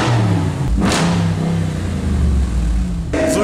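A tuned car at a car tuning event revs hard, its engine roaring loud and close with rising and falling pitch sweeps throughout, steady and continuous with no voices over it.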